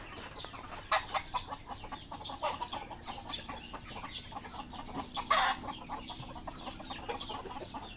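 Chickens cluck steadily on a farm with ducks nearby, the calls soft and overlapping, with a couple of louder squawks rising near the start and middle.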